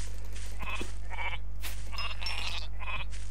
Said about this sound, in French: Il y a des moutons en bas, on sait pas ce qu'ils foutent là.